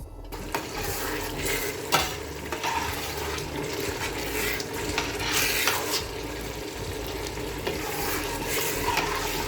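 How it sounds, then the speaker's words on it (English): Chicken stew fries in a half-covered pot with a continuous bubbling sizzle, close and even, with occasional faint knocks and no talking. "cover your pot halfway, like this, and just cook this until it's totally and properly fried"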